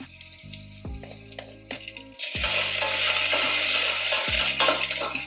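Garlic sizzling in a pan for beetroot borscht, with the hiss swelling loudly midway as it hits the hot oil, and a utensil scraping and stirring, close up.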